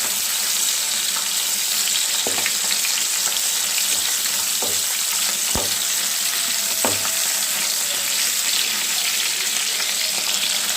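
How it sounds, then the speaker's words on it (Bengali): Fish fries steadily in hot oil, a constant close sizzle with a few soft clinks of a utensil and no talking. "মাছগুলোকে ভালো করে এপিট করে, বেশি ভাজবে না, মোটামুটি অল্প অল্প করে ভেজে নেব।"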